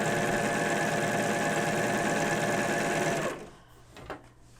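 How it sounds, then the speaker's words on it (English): A serger overlock machine seaming a girl's side panel dress runs at a loud, steady close buzz for about three seconds, then stops abruptly, leaving faint handling sounds. "I'm just going to simply serge it."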